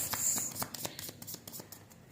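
Oracle cards are shuffled by hand close to the recording, giving a quick series of soft papery flicks and riffles in an uneven rhythm, faint and alone with no talking.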